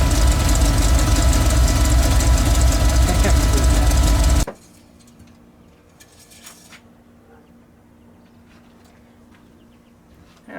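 A built Ford 302 V8 with a Melling high-volume oil pump, fitted in a Bullnose F150, idles loudly and close for a few seconds before cutting off abruptly, leaving a quiet background with faint shuffling.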